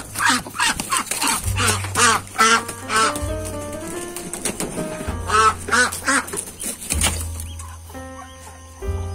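A mother duck on a backyard duck and chicken farm, with her ducklings nearby, quacks repeatedly in short, raspy bursts over a background of soft clucking bird noise.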